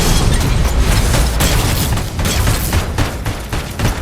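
Missile explosions in the video game RoboCop: Rogue City, a dense, continuous barrage of heavy booms and blasts rolling over each other for several seconds, loud and close with no pauses.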